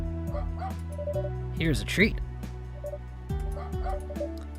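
A dog in a video game yips and barks in short bursts with a whimper, over game music and a nearby voice talking.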